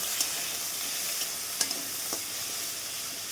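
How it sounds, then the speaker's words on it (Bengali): Raw banana and taro pieces fry with salt in a pan while being stirred, giving a continuous close sizzle broken by a few light spatula scrapes and taps. "সবজিগুলোকে নেড়ে চেড়ে ভালো করে একটু ভেজে নেব"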